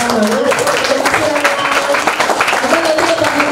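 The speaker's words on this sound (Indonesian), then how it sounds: "tepuk tangan dulu dong buat Rahman." A studio audience on an Indonesian talk show claps warmly for a guest, steady applause running throughout with a host's voice talking over it.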